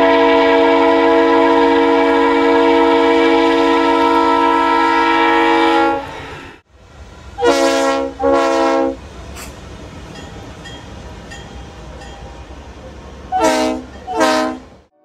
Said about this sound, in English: came equipped with the Leslie RS3L air horn, which sounds a little something like this.